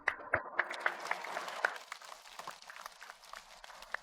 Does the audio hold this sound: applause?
yes